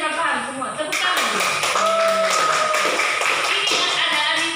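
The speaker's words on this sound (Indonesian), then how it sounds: "Tepuk tangan." Students in a classroom clap their hands during a mathematics lesson, rhythmic clapping mixed with voices talking and tonal sounds over the top.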